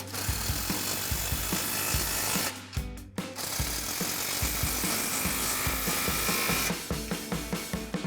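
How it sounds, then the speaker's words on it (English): An impact wrench fitted with a 15mm socket tightens the two exhaust clamps at the rear of the H-pipe on a 2024-2025 Mustang GT MBRP cat-back install, giving sustained loud rattling bursts with a brief pause partway through. "Now we can tighten our 2 clamps at the back of our H-pipe. Same thing, impact and 15mm socket."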